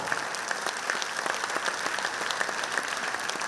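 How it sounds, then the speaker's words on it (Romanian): Steady audience applause fills a concert hall during a Dragobete and Mărțișor show, a continuous dense patter of clapping at moderate level with no talk over it. "aplauze pentru doamna manager, Abibula Stroie, Ștefania Laura!"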